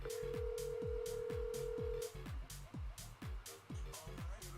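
A phone call rings out on a handset, a steady tone for about two seconds, then a repeating pulsed ring pattern, close and clear, with faint talk nearby.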